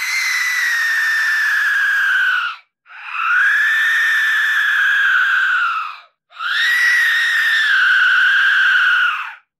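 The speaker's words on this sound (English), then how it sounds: "This is the sound of a single Aztec death whistle being played by its lonesome." Three long, piercing, scream-like blasts from a single Aztec death whistle with short gaps between them, loud and close, with no other sound.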